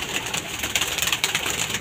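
A flurry of wings flapping close by with soft pigeon coos, a brief busy burst of birds taking off.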